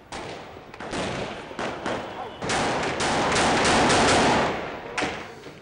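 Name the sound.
heavy gunfire in street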